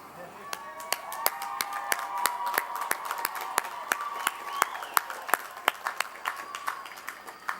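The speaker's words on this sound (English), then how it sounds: "I want you to stand up and applaud those individuals that provided you the support" A commencement audience applauds together, steady dense clapping with sharp individual claps popping out near the microphone, and a murmur of voices under it.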